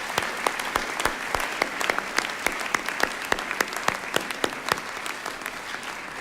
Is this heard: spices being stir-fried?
no